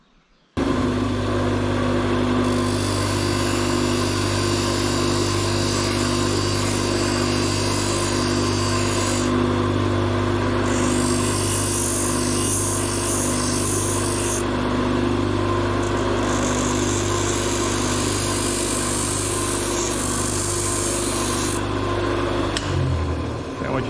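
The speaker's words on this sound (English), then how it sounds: "let's go take it to the emery wheel." An emery wheel grinds a metal fishing dart with a loud, steady whirring drone that holds for about twenty seconds, its pitch shifting as the metal is pressed on and off, then winds down.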